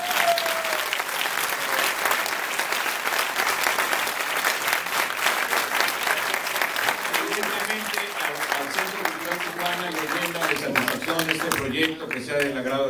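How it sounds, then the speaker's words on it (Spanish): A concert audience at a jazz and blues album presentation in a Tijuana cinema applauds with sustained loud clapping and some crowd voices, while music emerges toward the end. "Muchísimas gracias, un fuerte aplauso."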